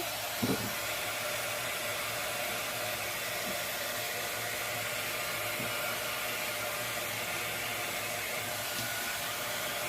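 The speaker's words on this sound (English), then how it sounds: "Take the heat gun." A heat gun blows steadily on shrink wrapping around soap, a continuous close airy roar that holds level from start to finish with no talking.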